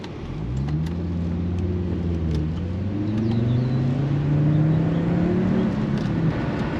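A Volvo 850R engine that has sat unused for several years idles and revs gently, its low rumble rising and falling in pitch through a few mild throttle blips, close and steady throughout.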